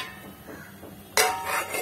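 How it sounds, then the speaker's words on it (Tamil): Water from cooked chickpeas pours and splashes suddenly into a metal vessel after a quiet stretch of faint clinking, a loud, bright rushing that continues to the end. "தண்ணியை கொஞ்சம் இருத்துடலாம்."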